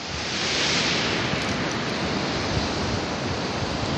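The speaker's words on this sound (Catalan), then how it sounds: "Això és la desembocadura, veieu com corre l'aigua?" Fresh river water rushing where the Vaca river meets the sea at Xeraco beach, a steady loud broadband wash with no pauses, close by and alone, with wind mixed in.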